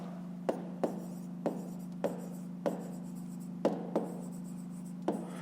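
Pen writing on paper while working a fifth-grade maths exercise: soft scratchy strokes with regular taps every half second or so, close and quiet over a steady low hum.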